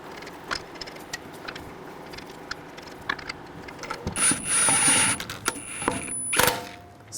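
Lug nuts being threaded and spun onto a wheel of a 2017-2022 Honda CR-V during a front brake job, quiet scraping and clicking metal sounds followed by a louder ratcheting whir and sharp clanks near the end.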